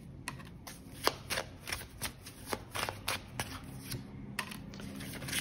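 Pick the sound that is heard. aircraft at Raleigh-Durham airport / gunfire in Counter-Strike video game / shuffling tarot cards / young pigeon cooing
shuffling tarot cards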